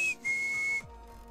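A person whistles an imitation of a black-capped chickadee call: a brief high note followed by a longer, slightly lower held tone, clear and close, ending with a soft low hum.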